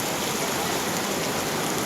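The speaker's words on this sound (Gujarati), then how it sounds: "વરસાદ તો ધબ ધુવાટી બોલાવે છે" Heavy rain pours down in a steady, dense wash of noise, continuous and loud, with no voices audible.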